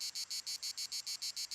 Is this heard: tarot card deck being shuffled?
no